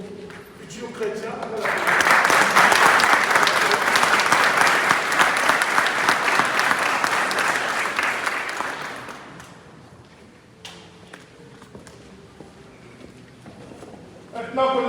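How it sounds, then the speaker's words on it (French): A church congregation at Mass bursts into warm applause for a newly baptised Christian, clapping steadily for several seconds before it fades into quiet room noise. "On va applaudir ce nouveau futur chrétien."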